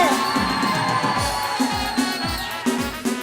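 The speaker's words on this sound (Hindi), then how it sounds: "यार शोर तो मचाओ, तालियां तो बजाओ मिलके" A crowd at a balloon and glass game show cheers, whoops and shouts loudly together, with children's voices and scattered clapping rising in waves.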